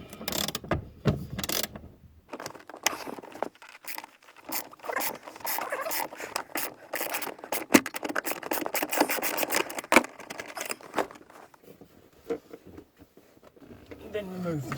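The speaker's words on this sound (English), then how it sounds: "I've been and grabbed a T40 on the socket like this, on a ratchet, a 1/2 inch ratchet." A 1/2 inch ratchet fitted with a T40 socket undoes the seat bolts in a Ford Mondeo MK3. Close, dry ratcheting clicks come in uneven runs with short pauses and some rubbing and clunking between them.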